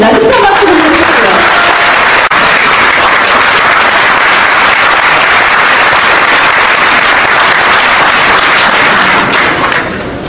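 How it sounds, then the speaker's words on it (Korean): Loud, dense applause from a large audience at a party founding convention, sustained and steady throughout, with a brief voice at the start and cheering blended in before it eases off near the end. "힘찬 박수 부탁드립니다."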